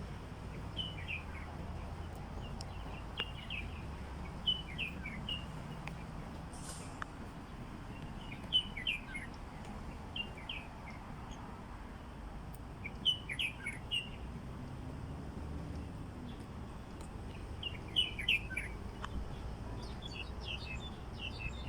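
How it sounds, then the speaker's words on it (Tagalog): Birds chirp and trill in scattered bursts against a quiet outdoor hum, some calls close, others further off. "ganda ng huni ng ibon"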